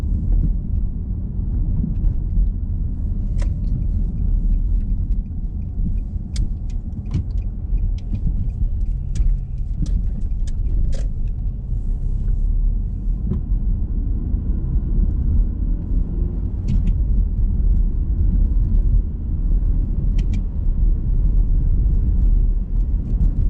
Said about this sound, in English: taking off in the Altima Coupe